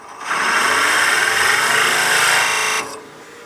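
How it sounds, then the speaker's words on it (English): Forstner bit boring into a wooden witch block head on a lathe: a single loud, steady whining cut lasting under three seconds, starting and stopping abruptly. "I'll get my Forstner bit back in and just drill out another 1/16 or 1/8 of an inch"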